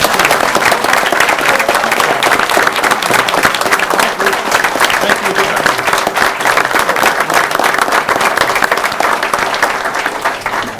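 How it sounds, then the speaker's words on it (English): A police meeting audience gives a sustained, dense round of applause, steady and loud throughout, with a brief spoken thanks partway through. "he certainly deserved that round of applause"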